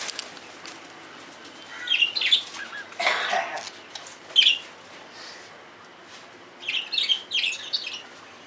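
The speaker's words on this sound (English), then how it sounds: "I thought it's like pigeons, but it's a lot of birds" A rooftop flock of kept birds in an Indian slum makes scattered chirps and tweets, with a soft flutter of wings and short irregular bursts against faint background noise.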